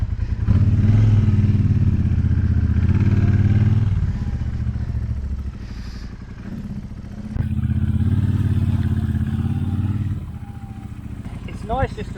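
A stock Triumph Bobber motorcycle engine runs close by, rumbling loud with throttle swells that fall to idle and rise again, ending on a quieter idle.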